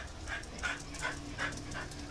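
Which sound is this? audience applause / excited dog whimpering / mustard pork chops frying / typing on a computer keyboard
excited dog whimpering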